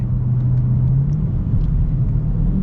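Chrysler 300C with the 6.4-litre Hemi V8 heard from inside the cabin, a deep steady engine rumble that rises slightly in pitch and dips briefly as it shifts gears.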